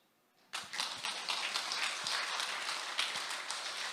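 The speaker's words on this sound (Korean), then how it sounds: "박수합시다." Church congregation clapping together at a Saturday dawn service in Seoul, a dense, steady burst of many hands that starts abruptly and carries on evenly throughout.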